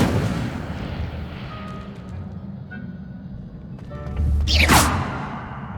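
In the Hogwarts Legacy video game, the Incendio fire spell goes off with a deep, booming blast and a rushing whoosh of flame over a rumbling game backdrop. The burst is loud and close, and no voices are heard.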